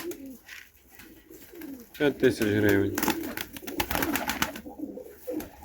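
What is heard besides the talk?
pigeons cooing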